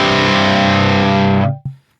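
An electric guitar plays through the second cabinet of a Line 6 Helix dual-cab setup, producing a loud, bright, distorted sustained chord that cuts off sharply and is followed by one short muted hit.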